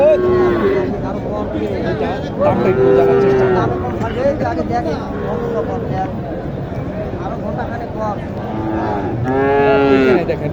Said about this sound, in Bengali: শাহিওয়াল একটি গরু হান্ড্রেড পার্সেন্ট শাহিওয়াল বাংলাদেশে খুব কমই আছে